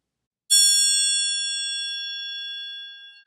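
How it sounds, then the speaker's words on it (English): A concert triangle struck once in the center gives a single bright, pure metallic ding that rings clearly and decays slowly for nearly three seconds with no other sound. "Hitting the triangle in the center will give you the purest sound with the least amount of overtones."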